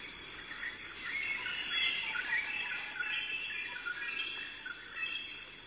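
Green parrots call in a lush setting, a busy flurry of high chirps and squawks at moderate distance over soft insect-like background hiss.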